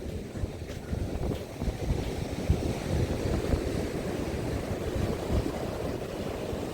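Winter sea waves wash against a pier in Odesa, a rough, continuous low roar of surf mixed with heavy wind buffeting the microphone, steady and fairly close, with no talking.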